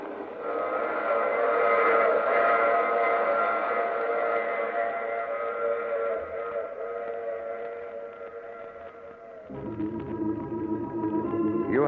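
A train sound effect from an old radio drama: loud, sustained whistle-like tones with a rumbling rail bed, the pitch dropping and changing near the end.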